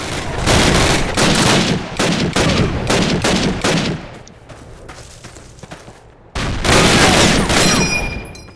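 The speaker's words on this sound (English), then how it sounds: "make the MG42s as loud as hell in this game" Rapid bursts of loud MG42 machine gun fire in the video game Call of Duty rattle in long volleys, pause briefly, then resume at full intensity, with scattered impacts in between.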